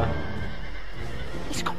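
A horse neighs in the LEGO The Hobbit video game, a whinny heard amid dense game sound with voices and background noise running throughout.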